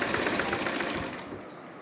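A sewing machine runs in a fast rapid chatter while stitching the side seam of a kameez, loud and close, then stops and leaves a faint tail after about a second.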